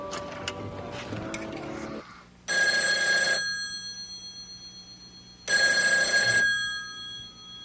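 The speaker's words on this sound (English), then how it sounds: "What took you so long to answer the phone?" A telephone bell rings loudly in two long, bright trills separated by a pause, following a brief stretch of muffled background noise.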